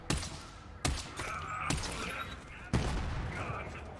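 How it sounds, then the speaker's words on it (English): Explosive blasts from a thrown grenade in the shooter game Borderlands 3, three sharp broadband bangs about a second apart with rumbling tails, loud and close amid ongoing battle noise, a voice briefly under them. "Who just threw a grenade at me?"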